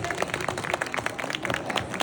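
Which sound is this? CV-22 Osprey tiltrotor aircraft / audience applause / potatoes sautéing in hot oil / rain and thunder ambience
audience applause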